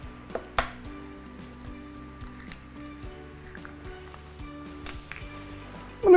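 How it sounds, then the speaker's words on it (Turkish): An egg and yogurt mixture is whisked in a bowl for a Turkish noodle soup, making quiet, rapid, rhythmic clicks and scrapes with a couple of sharper clinks against the bowl. "Bunu güzelce homojen olacak şekilde çırpıyorum."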